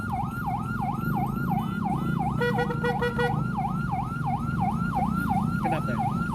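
An ambulance carrying a baby patient between RSUD Jampang Kulon and RSUD Sekarwangi sounds its siren in a fast, repeating wail that rises and falls over road traffic, with a brief burst of rapid yelp tones partway through.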